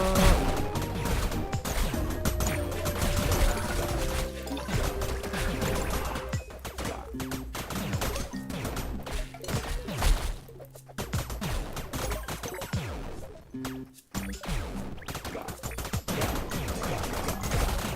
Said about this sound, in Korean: 아주 뭐가 폭발하는 소리가 매우 많이 들리네